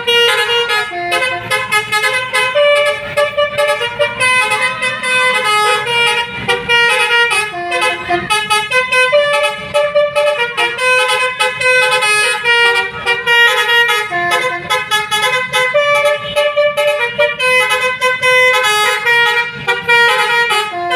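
A tour bus sounds its musical basuri horn in a loud, continuous run of melodic honking tones, with no talk.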